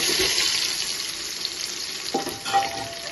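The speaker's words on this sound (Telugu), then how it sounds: "వేగిపోయిన తర్వాత ఆనియన్స్ వేస్తున్నాను, పొడవుగా కోసుకున్నాను." Sliced onions, cut lengthwise, frying in hot oil for a restaurant-style Nellore sambar, a steady close sizzle with stirring and a brief clatter partway through, no talking.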